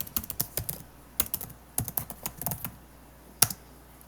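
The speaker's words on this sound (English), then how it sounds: "Nice if I can type a little faster here, right?" Fast typing on a computer keyboard, a run of sharp close key clicks in uneven bursts with a short pause, then a single louder keystroke and a few more.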